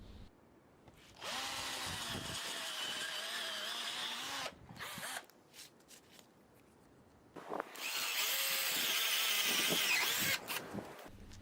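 A jigsaw cuts fine inner detail into a wooden sign, its buzzing whine running in two separate bursts with a short quiet pause of lighter rasping between them.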